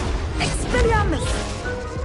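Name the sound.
Expelliarmus spell cast in Hogwarts Legacy video game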